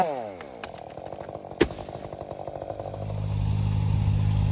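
A chainsaw cuts a maple tree into firewood lengths. The engine winds down from a high whine to a rough idle with a sharp knock partway through, then revs back up into a steady loud drone. It sounds close, with no talk.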